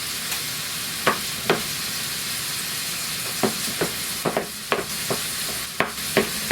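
Cheese being stirred into cooked rice in a pan for pork and cheesy corn rice enchiladas, giving scattered soft scraping and clicking stirs over a steady sizzling hiss, with no talk.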